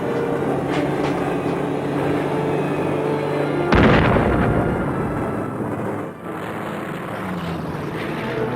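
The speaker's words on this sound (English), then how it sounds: "He heads for the bomb blasts from the planes ahead." A P-47 Thunderbolt fighter-bomber attack on a bridge target, with a loud, sudden bomb blast a few seconds in, preceded and followed by a steady roar of aircraft engines and rumbling.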